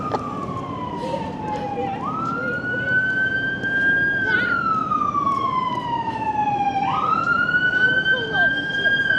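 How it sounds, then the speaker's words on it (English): An ambulance siren wails in slow rising and falling sweeps, loud and close, over steady traffic noise on Blackpool Promenade. "Parting of the waters for the ambulance."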